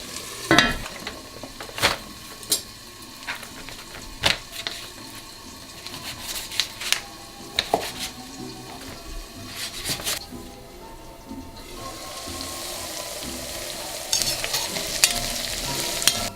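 Onions caramelizing in a pan of oil for Uzbek plov, with a steady close sizzle punctuated by sharp utensil clacks and scrapes, the frying growing brighter and louder toward the end; no speech.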